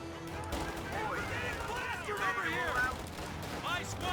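Rifle fire crackles in Company of Heroes 2, scattered shots and bursts over a busy battlefield din while a commentator talks throughout.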